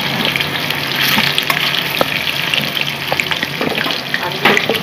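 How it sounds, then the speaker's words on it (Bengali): Katla fish pieces fry in a pan of oil, giving a steady close-up sizzle broken by scattered sharp pops and spatters, with no voices. "মাছগুলো একটু ভাজা হোক।"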